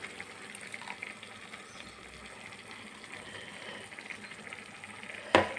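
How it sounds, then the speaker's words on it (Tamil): Ground coconut and cumin paste sautéing in a pan gives a soft, continuous sizzle and bubbling, faint and steady, ending in one sharp clatter near the close. "இப்போது நம்ம அரைச்சி வச்சுருக்கோம்ல தேங்காய், ஜீரகம், அந்த பேஸ்ட்டை இதில் போடுறோம்."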